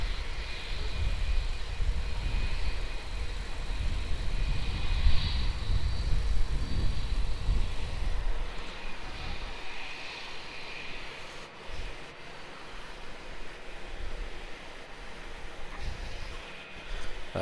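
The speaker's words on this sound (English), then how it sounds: "Qantas 621 will be the one in from Brisbane." A Qantas airliner landing at Melbourne Airport, its engine roar loud at first, then fading into distant rumble with a thin whine lingering.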